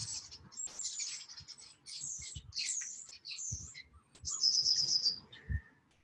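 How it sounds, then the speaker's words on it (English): Birds chirp and squawk outdoors in the morning, a close busy run of bright, rapid calls that comes in bursts, with soft thumps and rustles from a yoga class in between. "Birds have come to join our practice this morning."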